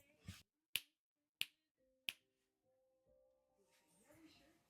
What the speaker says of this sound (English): can you snap your fingers?